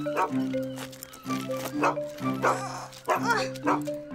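A cartoon dog barks in repeated bursts, several yips and bow-wows spaced through the scene, close and clear over a light background score.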